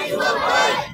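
A crowd roars back in loud unison to the Nara-e-Takbir chant at a Bangla religious sermon, a sustained, dense wall of many voices filling the full second.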